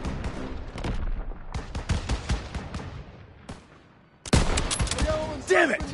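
Heavy gunfire in the Call of Duty WW2 video game, a dense run of rapid shots and bursts, then a brief lull before another loud volley with explosions, near and intense, with shouted squad voices over the battle.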